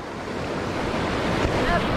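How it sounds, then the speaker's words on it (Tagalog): Loud, close rushing water of a strong river current flows without pause, with gusts of wind buffeting the microphone. "Lakas ng agos."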